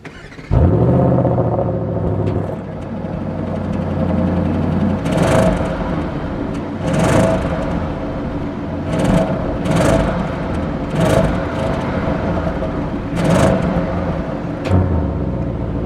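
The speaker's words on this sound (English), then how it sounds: "This is all you get when revving an RS6." An Audi RS6 engine idles low, then revs in a series of brief, fairly restrained bursts, each rising and falling quickly.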